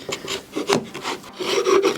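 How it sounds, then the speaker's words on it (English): A chisel pares wood from a ledge on a mitered half-lap joint, giving close, dry scraping strokes that rise and fall in short bursts over a couple of seconds. "that's where chisels are for, right? So we can just clean that up."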